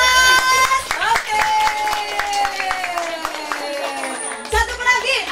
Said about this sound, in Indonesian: Mana tepuk tangan untuk Piras?